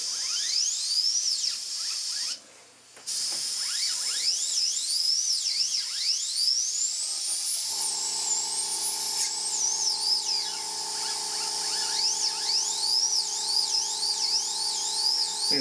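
An airbrush sprays Createx paint with a steady high hiss that carries on throughout. Repeated whistling, sweeping squeals rise and fall over it, then a lower hum joins midway.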